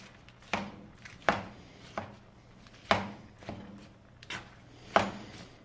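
Sharp scraping jabs of a utensil against a hot pan of diced peppers, five or six distinct strikes at an uneven rhythm over a faint background hiss.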